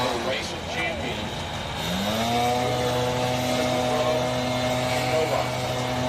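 A blown drag racing engine roars at full throttle at a bracket race at Houston Raceway Park, a loud sustained drone that climbs in pitch and holds steady, with people talking and shouting nearby over it.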